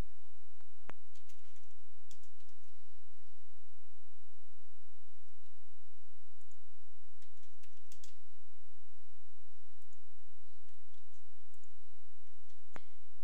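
Someone types steadily on a computer keyboard while entering text into a table, producing scattered soft clicks over a faint, steady background hum with no talking.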